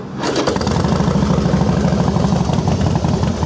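A 2006 Harley-Davidson Fat Boy FLSTF with a balanced Twin Cam 88 engine idles close by, a steady, loud, low rumbling throb with no voices over it.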